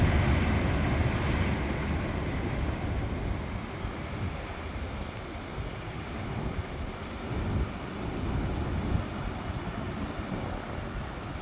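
Ocean surf at Chetco Point Park in Brookings, Oregon rolls out and back in, a continuous broad wash of breaking waves with wind noise across the microphone, no talk.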